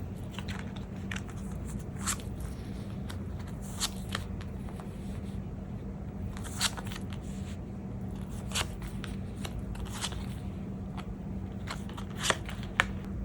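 Tarot cards shuffled steadily for the whole stretch, with soft riffles and sharper snaps at irregular moments over a low, constant background hum; close and fairly quiet, no voices.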